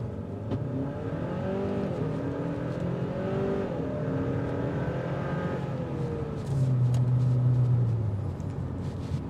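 A 2026 Kia K5 GT sports sedan engine revs and accelerates, a loud, steady drone whose pitch rises and falls, then swells to a stronger, deeper surge near the end.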